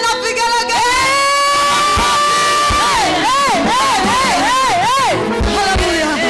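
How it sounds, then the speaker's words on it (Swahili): Church congregation at a Sunday service shouting and ululating in praise, a loud sustained crowd roar with warbling trilled ululations rising over it, close and continuous throughout. "Pigia Yesu kelele na vigelegele."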